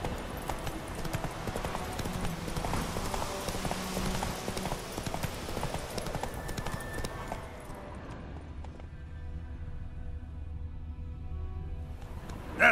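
Roach, Geralt's horse in The Witcher 3, trots along with steady rhythmic hoof clip-clops over game ambience, the sound dropping to a quieter, duller tone toward the end.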